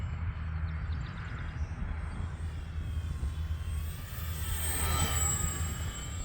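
An Arrows F4U-4 Corsair RC model airplane makes a low pass on a morning flight. Its steady engine drone and whine swell toward the end of the pass over a constant background rumble, with no talking.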